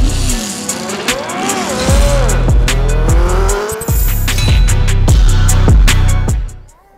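A track-ready Triumph Daytona 675R motorcycle with no gear shifter, its engine loud and close, revving up and down in sweeping pitch changes with brief dips, then cutting off abruptly at the end.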